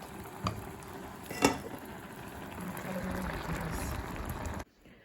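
Soft bubbling and sizzling of food stewing in a pan, steady and close, with a couple of faint clinks before it cuts off.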